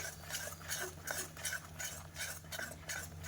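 A spoon stirs mango pulp in a pan while mango halwa is being made, a soft repeated scraping and swishing with a low steady hum underneath, faint and close.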